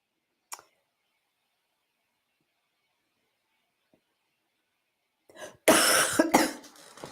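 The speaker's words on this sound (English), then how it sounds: "I still have my COVID cough." A person with a lingering COVID cough lets out a burst of harsh, close coughing near the end, after a faint click early on and long near-silence.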